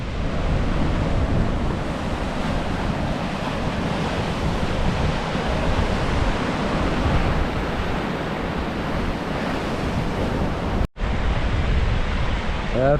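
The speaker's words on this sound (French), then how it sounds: "Donc on va aller voir les vagues." Ocean waves crashing on the shore at Robe, South Australia, a loud steady roar of surf mixed with wind buffeting the microphone, with a brief cut near the end.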